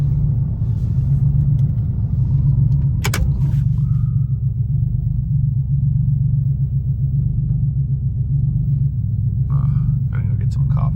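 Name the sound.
Porsche GT3RS engine rumbling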